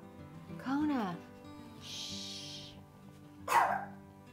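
A dog gives a couple of short barks and yips indoors, one rising whine-like bark then a sharper yelp a few seconds later, moderately close, with a soft hiss between.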